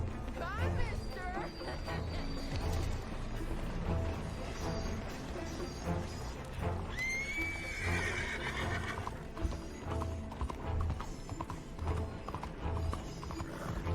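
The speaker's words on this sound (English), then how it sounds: "Esse cavalo que nem sei de quem que é." Horse whinnying and clip-clopping hooves in the video game Red Dead Redemption 2, a neigh rising mid-clip over steady hoofbeats, with someone talking throughout.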